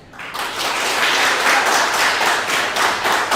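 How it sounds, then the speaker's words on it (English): A sports pub crowd breaks into applause, swelling quickly from quiet into loud, dense clapping that stays strong, with a few sharp individual claps standing out. "by a round of applause, we're going to see which one you guys are a favorite of"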